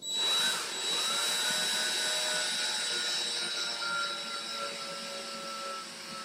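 A cordless drill drives a screw toward a wall stud indoors, giving a continuous strained whirring hum that slowly weakens over several seconds as the motor labours.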